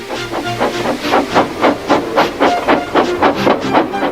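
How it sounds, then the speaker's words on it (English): Rhythmic bursts of hissing steam from a locomotive, puffing in a steady repeating pattern, loud and close with no voices. "with much noise and blowing of steam, got ready to back onto the train"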